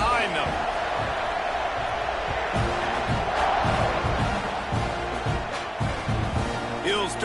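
A football stadium crowd at a Miami vs TMAU game roars and cheers steadily before kickoff, with a commentator talking over the noise and occasional thuds.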